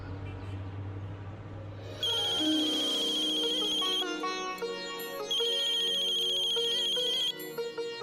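A phone ringtone plays as a loud, bright melodic tune with sustained tones that repeat in phrases, after a short low hum at the start. No one speaks over it.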